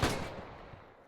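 Video game gunfire on a World War II training shooting range, a single sharp close shot with a booming report that decays over about a second.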